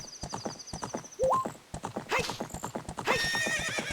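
A horse trots in Zelda Ocarina of Time with quick, even clip-clop hoofbeats up close and neighs and whinnies breaking in over them.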